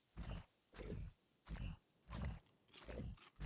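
Repeated deep, growling roars from a bear, five or six bursts in a steady rhythm, loud and close, with a faint high tone underneath, from the video game Raft.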